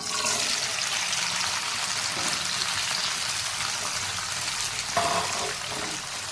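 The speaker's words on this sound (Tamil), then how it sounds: "இப்போ இதில் சேர்த்து நம்ம வதக்கிக்கலாம்" Grated carrots sautéing in ghee in a pan give a steady, fairly soft hiss and sizzle throughout, with a brief louder clatter near the end.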